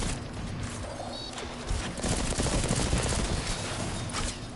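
Rapid gunfire from the Polaris Lance scout rifle in the video game Destiny 2, with loud repeated shots, impacts and crashes blending into a dense, continuous barrage with no voices.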